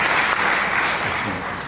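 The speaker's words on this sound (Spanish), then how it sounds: "Un aplauso." Steady audience applause fills a university lecture hall, a dense wash of clapping that stays loud throughout and fades slightly at the end.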